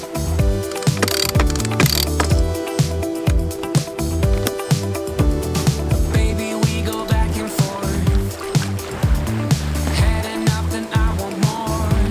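A sailboat's mainsail is lowered at sea during an ocean crossing, with loud, busy ratcheting and clicking from the winch and rigging, a rapid, irregular mechanical rattle running throughout, close and alone without talk.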